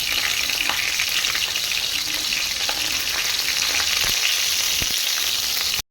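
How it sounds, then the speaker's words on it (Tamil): Garlic fries in hot oil for a drumstick-leaf stir-fry, a dense, close, steady crackling sizzle with a few sharper pops near the end before it cuts off. "எண்ணெய் சூடாயிடுச்சு நம்ம பூண்டு சேர்த்துக்கலாம்"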